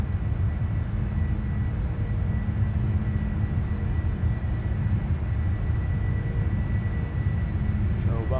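A Boeing 747-400 freighter climbs out of Chicago O'Hare in a flight simulator, its engines a steady, dense low roar that holds at one level throughout with no talk over it.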